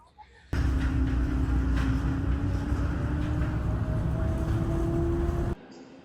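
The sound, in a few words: train ride in Seattle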